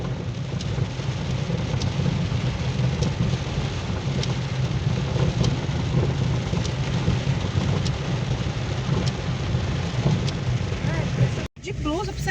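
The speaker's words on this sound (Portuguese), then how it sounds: "Mas já pegou a chuva, já molhou tudo" Heavy rain pouring down during a drive, a loud continuous wash of drops with scattered sharper hits and low rumble, cutting out briefly near the end.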